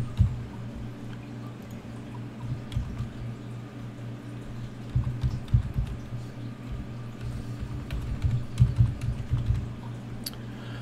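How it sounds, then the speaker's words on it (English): Someone types on a computer keyboard while setting up a FreePBX 14 phone system. The keys patter softly and irregularly at close range, in short bursts that grow busier toward the end, over a low background hum. "I'm just going to type in IVR"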